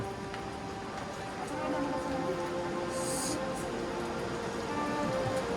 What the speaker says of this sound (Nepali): पहरो रसाएर झरेको पानी हो यो